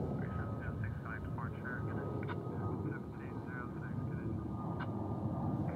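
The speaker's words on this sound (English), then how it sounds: "It's like an A321neo for American Airlines taking off here." An American Airlines A321neo jet takes off, a faint, steady engine rumble heard in the distance beneath a person talking.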